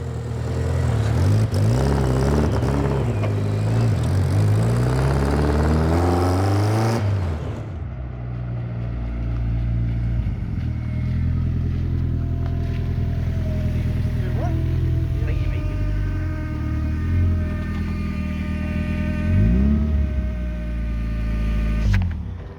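A Locost 7 kit car drives with its engine running steadily and loudly close by throughout, the note rising and falling as it moves, and a short rev around the middle.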